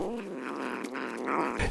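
An angora cat growls in a low, continuous rumbling tone broken by a few throaty pulses, close and fairly quiet, with no one speaking.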